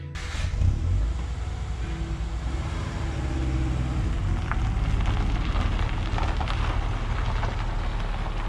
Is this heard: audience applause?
no